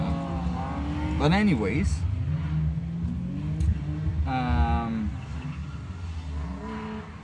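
A drifting BMW E36 with a new engine revs high, its engine note rising and sweeping in two loud bursts over steady road and engine noise, with someone talking close over it.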